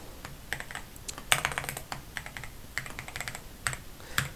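Quick bursts of keystrokes on a computer keyboard as a password is typed, clicking in short irregular runs with brief pauses, close and fairly quiet, no voices.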